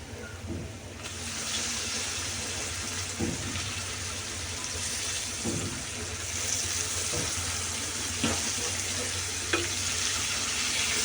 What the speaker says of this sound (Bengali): এই মাছের তেল দিয়ে এই মাছগুলো রান্না করলে কিন্তু খুব সুস্বাদু হয় খেতে দু তিন মিনিট এভাবে কষার উপর দিয়ে দিব